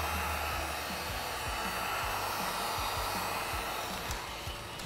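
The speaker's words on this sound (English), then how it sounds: "So this is where the heat gun comes in handy." A heat gun blows a steady, loud whoosh of hot air as it softens a vinyl graphic being pressed into a crease, running continuously with no talk.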